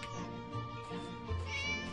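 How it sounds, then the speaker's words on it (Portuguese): A cat in a video game meows repeatedly, several loud, close wavering cries in quick succession over faint game background sound, with no talking. "O gato não para de miar."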